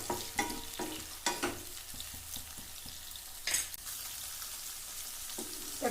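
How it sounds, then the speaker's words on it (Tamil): Tomatoes fry with ginger garlic paste in a pan for bottle gourd kuzhambu. A soft sizzle runs underneath, while a spoon stirs and scrapes in several clattering strokes close by. "இது எல்லாத்தையும் நல்லா வதக்கிக்கலாம்"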